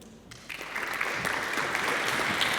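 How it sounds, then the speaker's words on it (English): A startup-pitch audience bursts into steady applause, a dense patter of clapping that swells after a brief pause and holds at moderate loudness. "Please give a huge round of applause to Anouk Halle from Greenbox Mobile Energy."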